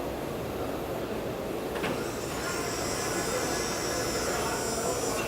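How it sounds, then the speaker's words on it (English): A Bullmer fabric spreading machine runs with a steady mechanical hum and a faint rattle, joined by a brief clack partway through and a higher whine that holds for the rest of the clip. "And now the machine spread out the fabric exactly on this layer."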